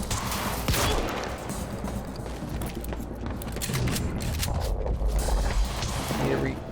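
Dense gunfire from a firefight in the video game Quantum Break, a continuous loud burst of overlapping shots and mechanical clatter running throughout with no pauses.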